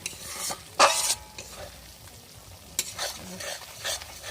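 Spice paste for a village-style chicken and potato curry sautés in oil. Loud scraping bursts of stirring break over a soft, steady sizzle, heard close up.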